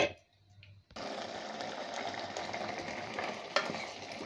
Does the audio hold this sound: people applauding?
no